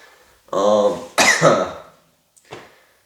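A man coughing and clearing his throat after drinking Dr. Pepper, a rough hacking cough followed by a harsher throat-clearing burst, then a short faint second clear, close and loud between silences.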